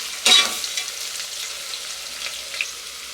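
Ground masala paste added to onions frying in a pan for egg biryani, with a sharp burst of sizzling at the start that settles into softer crackling and a few stirring scrapes.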